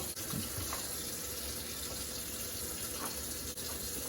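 Tap water runs steadily into a sink as fresh spinach is rinsed under the stream for meal prep, a continuous close splashing wash with no talking over it.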